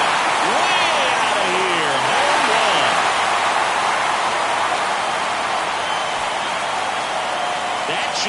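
A home crowd at a Mets baseball game at the ballpark roars and cheers after a home run, a loud, steady wash of crowd noise with whistles, sustained for the whole stretch.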